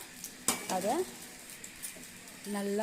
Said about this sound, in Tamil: அந்த வெங்காயம் கொஞ்சம் ப்ரௌனிஷாக வர வரலும் நல்லா போட்டு வதக்கிட்டே இருக்கணும்